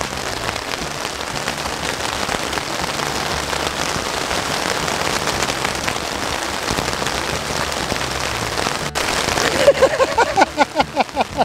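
Heavy monsoon rain pours down steadily during an overnight stay outdoors, a loud continuous hiss of drops on surfaces, with a few sharp impacts and a fluttering patter near the end.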